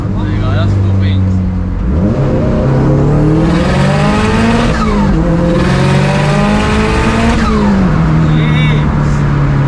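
A 556hp Subaru Impreza STI pulls hard at full throttle, its engine note climbing through several gear changes, loud and close from inside the car, with voices over the roar.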